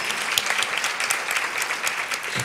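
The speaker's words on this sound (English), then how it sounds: "But give her another round of applause." An audience at a university lecture series breaks into sustained, dense applause, steady and fairly loud throughout with no pauses or voices over it.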